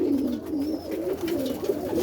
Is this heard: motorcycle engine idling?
no